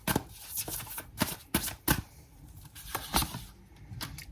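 Tarot cards shuffled by hand in a quiet room, a series of soft, close riffling bursts and papery slaps in an irregular rhythm, with no talk.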